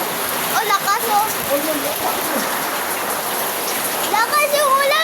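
Heavy rain pours steadily onto surfaces close by, a dense continuous hiss and patter, while voices and faint calls come and go over the downpour.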